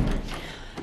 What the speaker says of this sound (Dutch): Ik doe even de deur dicht.